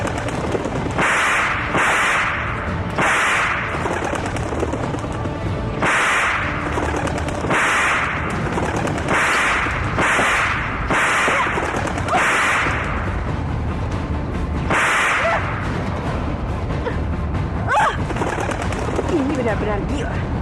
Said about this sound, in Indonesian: Sini, biar aku saja yang cambuk.